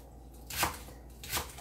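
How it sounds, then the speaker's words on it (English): Green onions are chopped on a board with a knife, two soft separate cuts, quiet and close, with no talking. "Chop those up."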